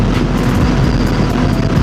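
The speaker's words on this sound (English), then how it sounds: "do you guys hear how much my bike is screaming right now?" A Yamaha R6 sport motorcycle's engine screams at speed on the road, a loud, steady, dense roar mixed with heavy wind rush throughout, with no talking.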